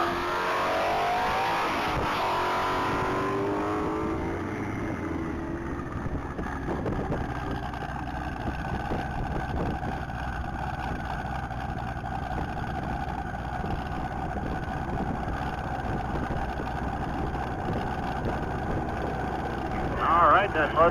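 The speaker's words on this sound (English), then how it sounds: "that Mustang GT is blazing down the track" A Ford Mustang GT accelerates hard down the Texas Mile top-speed track, a loud engine roar rising in pitch early and then holding a high, steady drone with distant crowd and course noise.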